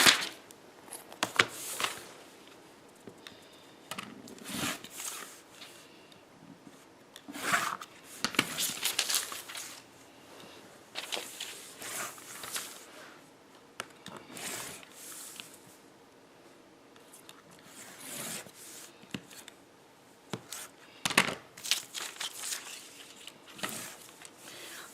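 Scissors snip through paper and fabric pattern pieces for a quilt block, intermittent close crisp cuts and rustles in irregular bursts over a quiet room.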